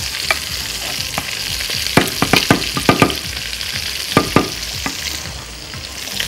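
Rice and meat frying in butter in a pan, a steady sizzle broken by repeated scraping knocks as the mix is stirred, close and clear with no talk.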